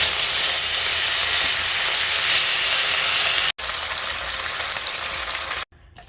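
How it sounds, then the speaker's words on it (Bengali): Fish frying in hot oil in a village kitchen, a steady loud sizzle and hiss that carries on without a break, cuts out for an instant and then returns before dropping away near the end. "এখন মাছ ভেজে নেব।"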